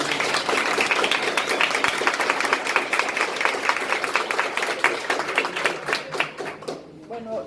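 An audience at a lecture claps to welcome a law professor to the stage, a close, even patter of many hands that keeps going for several seconds before fading, with voices mixed in.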